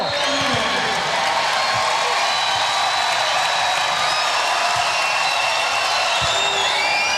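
Arena crowd at a Hawaii Rainbow Wahine volleyball match roaring and cheering at match point, a loud, sustained wall of cheers and whoops filling the whole stretch.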